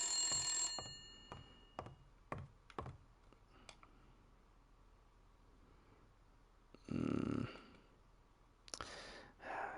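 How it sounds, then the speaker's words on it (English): Telephone ringing in the video game Blacksad: Under the Skin, a series of short, evenly spaced electronic rings close up at the start, followed later by a louder burst of other game sound. "I was clearly getting a phone call"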